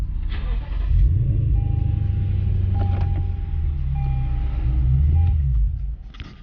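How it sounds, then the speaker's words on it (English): A Lexus RC F engine runs at idle, giving a steady, close, deep rumble with a thin tonal hum. It swells about a second in and holds evenly before easing off near the end. "we're gonna start the car and put it in park."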